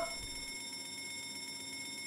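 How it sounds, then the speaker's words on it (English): A fire alarm in the Escape the Backrooms video game rings steadily with a continuous electronic bell-like tone, quiet and unbroken for the whole stretch, with no talking over it. "I sounded the fire alarm."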